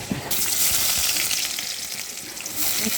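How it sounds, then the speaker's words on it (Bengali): Chopped onions drop into hot oil and start to fry. There is a sharp initial hit, then a loud, bright sizzle that stays fairly constant, with faint stirring sounds underneath. "এখন আমি কেটে রাখা পেঁয়াজগুলো দিয়ে দিচ্ছি"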